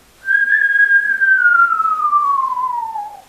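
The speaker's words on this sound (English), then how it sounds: "the first thing to do before you even start with the harmonica is to do the whistle backwards trick" A single long backwards whistle, made by drawing breath in as a harmonica practice trick, slides slowly downward in pitch for about three seconds, clear and close with no other sound.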